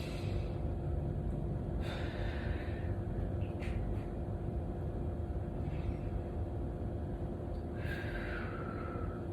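Slow breathing during a side and back stretching exercise, a few audible breaths and sighs over a steady low background hum, with no talking.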